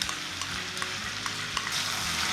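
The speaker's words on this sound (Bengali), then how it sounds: "সব মশলাগুলো একসাথে খুব ভালো করে মিশিয়ে নেব।" Ground spices and beaten curd for hilsa fish biryani are stirred in a pan, a close steady sizzle broken by regular light taps of the spoon against the metal.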